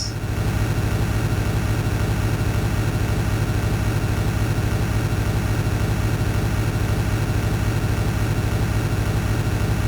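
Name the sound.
bus engine whirring in the video game Desert Bus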